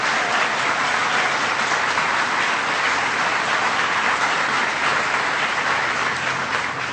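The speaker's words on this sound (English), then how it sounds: "Please give them" A large crowd at a Troy, New York event applauds members of Congress, with dense, sustained clapping that holds steady and loud from start to finish, with no voices over it.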